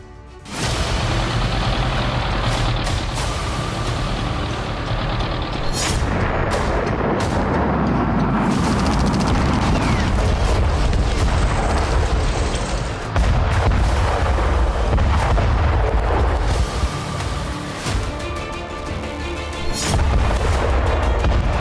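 Ukrainian artillery attack in the war, a dense roar of continuous booms and explosions that stays loud throughout, with rumbling low thuds and a few sharper blasts, no voices.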